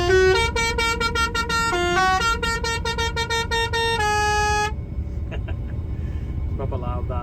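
A loud air horn fitted on a combine harvester plays a tune as a run of sharp, repeated musical blasts for about five seconds, then cuts off, leaving engine rumble and faint further tones.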